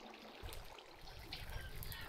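Water splashing and trickling in a Minecraft mushroom farm minecart loop, a soft steady wash of running water, faint and continuous.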